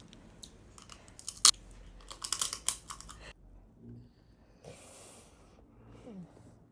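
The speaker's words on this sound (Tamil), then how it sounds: "நண்டு கால் எப்படி கடிக்கணும்னு சொல்லி தரேன்." Fried crab legs from a spicy homemade crab fry are bitten and chewed up close: one sharp crack, then a burst of crunchy bites, followed by softer chewing.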